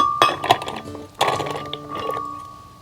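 Hard cashew nuts pour into a glass blender jar for a cucumber salad with aioli sauce, giving two bright clattering bursts of clinks that ring briefly and then fade, recorded close.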